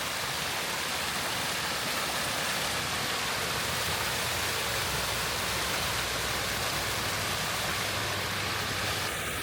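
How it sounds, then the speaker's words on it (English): Steady, dense rush of a backyard pond waterfall pouring continuously, close and even with no pauses. "And we have a waterfall again."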